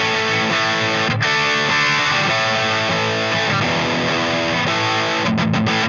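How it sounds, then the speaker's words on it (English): Distorted electric guitar chords ring out thick and saturated, strummed several times with brief choppy stops near the end. "So let's take a look at how this distortion sounds."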